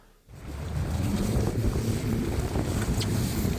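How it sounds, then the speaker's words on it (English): Strong wind on Deception Island, Antarctica, buffeting the microphone with a loud low roar that rises after a brief quiet moment and stays continuous. "So today it's quite windy"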